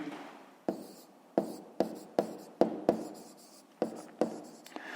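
Numbers being handwritten, likely chalk or pen on a board for a fifth-grade math exercise: about a dozen sharp tapping strokes in an uneven rhythm, close and clear, without talking.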